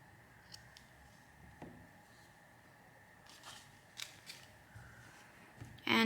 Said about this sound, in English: now we can trim the yarn